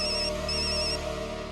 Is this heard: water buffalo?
no